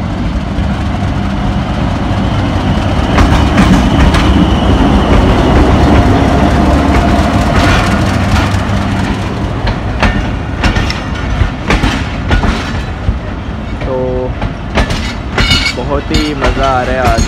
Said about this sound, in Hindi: आ रहा है आज प्लेटफॉर्म नंबर 2 पर हमारी 18 डाउन को देखकर